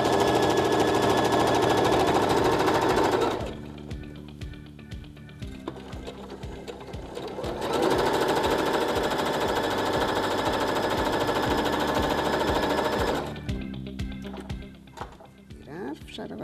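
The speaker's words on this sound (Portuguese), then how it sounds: "E lá vamos nós para a máquina de costura." A sewing machine runs in two long bursts as it stitches a seam, a loud rapid mechanical rattle that stops between runs, with a voice talking in the quieter gaps.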